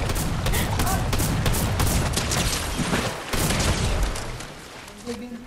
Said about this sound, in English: I am shooting their shotgun.